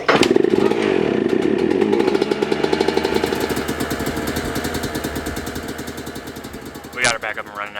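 A dirt bike with a freshly rebuilt engine revs and runs loudly up close, with a rough buzzing drone that slowly fades before a sharp blip of throttle near the end.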